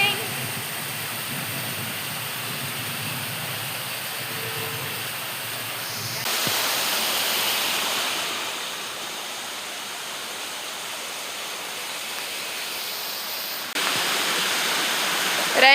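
Water rushes through a culvert beneath a railway track in the rainy season, a steady broadband roar close by that swells and eases slightly but never stops.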